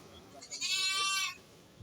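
A single goat lets out one loud, wavering bleat lasting under a second at a Peranakan Etawa goat contest final held at a livestock market.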